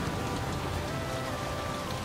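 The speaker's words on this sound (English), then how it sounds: "It just started raining and now I'm cold." Steady rain falls in The Flame in the Flood video game, a dense, even hiss of drops on surfaces that carries on without break, moderately loud and near, with no talk over it.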